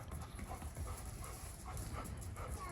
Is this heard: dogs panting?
yes